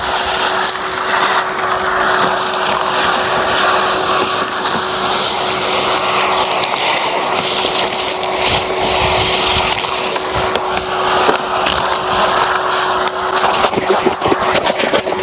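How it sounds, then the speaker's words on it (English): A vacuum cleaner hoovers up broken window glass inside the front door of a Ford Mondeo, with a steady loud whine over crackling, rattling shards sucked up throughout. "I'm going to start off by hoovering up some of this glass in the area."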